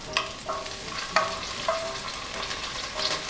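Garlic sautéing in hot oil in a pot, a steady sizzle with a few sharp clinks of a spoon or spatula against the metal, close and fairly loud with no voices.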